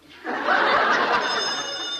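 A telephone bell rings once in a long continuous burst, loud and close, as a sound effect in an old Abbott and Costello radio comedy show.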